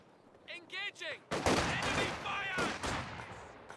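SVT rifle fire from conscripts battling Grenadiers in Company of Heroes 2 bursts in as a dense, overlapping volley of sharp shots after a brief voice, crackling steadily for a few seconds.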